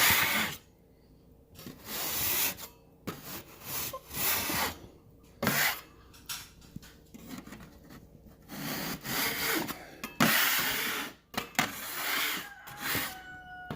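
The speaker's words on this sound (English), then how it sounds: "Just hit it with a knife." Drywall knife scraping down a ridge of dried joint compound on a ceiling, a series of close, rough rasping strokes of varying length separated by brief pauses.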